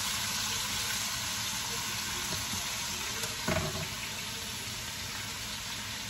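Minced garlic sizzles in a pan of homemade seafood sauce, a constant hiss with a few faint clinks, alone and fairly loud.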